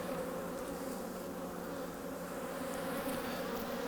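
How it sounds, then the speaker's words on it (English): Honeybees buzz around an opened hive colony during an inspection, a dense continuous drone from many bees close by, steady and unbroken. "there's quite a few bees"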